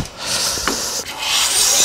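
A hand plane shaves across a wooden surface while a hanging cabinet is being made, giving a close, continuous dry rasping swish with a brief pause near the middle and no voices.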